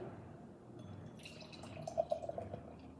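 New England IPA pours into a glass with faint gurgles and a few bubbly splashes, quiet and close, over soft background hum.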